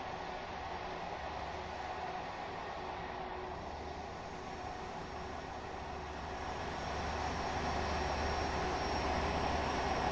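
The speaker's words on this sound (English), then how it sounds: "You can hear the engines." South Devon diesel locomotive engines in Train Sim World 6, a steady low hum with a broad rumble, fairly faint and continuous, swelling slightly toward the end, with no voices over it.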